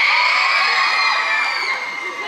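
A premiere audience at Le Grand Rex in Paris shouts, whoops and cheers for the film Gangsterdam, a loud, dense and sustained crowd roar that fades slightly toward the end with no clear talk over it.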